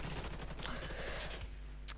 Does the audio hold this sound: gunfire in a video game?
yes